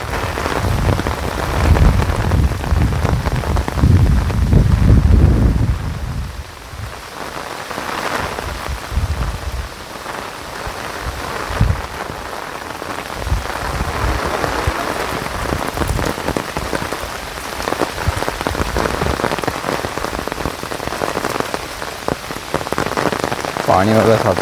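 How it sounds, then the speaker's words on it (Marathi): Steady rain pours outdoors in the Konkan countryside during a crab-hunting outing, a dense, continuous hiss of drops on surfaces with heavier low rumbling in the first few seconds, then an even wash that stays loud throughout. "या पावसाने हजेरी लावला आता लगेच"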